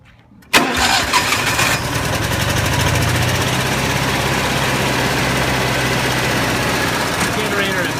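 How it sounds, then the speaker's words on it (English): A generator engine with about 363 hours on it is started after a switch is turned on. It catches abruptly, then settles into a loud, steady mid-pitched running drone, heard up close and alone. "going to fire up the generator here"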